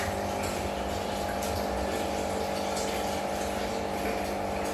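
Tap water runs steadily into a kitchen sink basin, a continuous close rushing flow with no pauses for the whole stretch.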